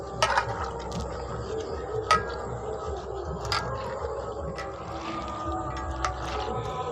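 Pimless leaves are mashed by hand in water for sherbet, producing close, wet squelching and sloshing with occasional sharp clicks against the vessel, continuous and fairly soft.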